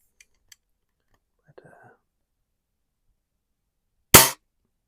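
A custom hot-rodded Daisy 1938B BB rifle, front loaded, gives a few faint small clicks and handling rattles, then one sharp, loud shot near the end.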